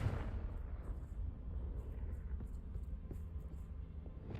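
Confringo explosion spell cast in a wizard video game, a deep booming rumble with a sharp onset and a long low roar that carries on steadily behind a few faint crackles.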